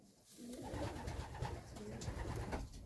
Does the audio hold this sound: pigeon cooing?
yes